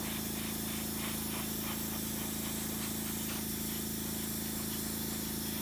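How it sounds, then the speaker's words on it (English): Spray paint hisses steadily in short, pulsing bursts, close and continuous, as an airbrush coats a HobbyBoss 1/18 AV-8B Harrier model kit, with a constant low hum underneath. "I can spray a little bit heavier in some areas and a little bit lighter in others"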